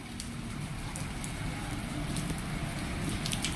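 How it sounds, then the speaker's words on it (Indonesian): Steady rain falls at the Cibatu train station in West Java, a dense, even patter with occasional nearer drips, heard close and continuous with no talking. "Hujan bawa berkah nih Bapak Ahmad Kosim"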